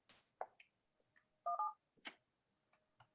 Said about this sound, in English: you're going to dial *17, and that's going to get you into the voicemail system